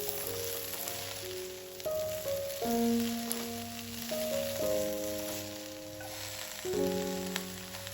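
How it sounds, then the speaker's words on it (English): Chopped cabbage frying in a pan with a spice mixture for a Hungarian sausage dish, a steady close sizzle with stirring and tossing sounds, with music playing along throughout and no talking. "Add chopped cabbage to the pan. Toss everything well to coat the cabbage evenly with the flavorful spice mixture."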